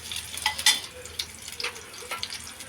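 Four garlic cloves fry in hot oil in a pan, a soft crackling sizzle with a few sharper pops and light stirring scrapes, close and fairly quiet, no talking.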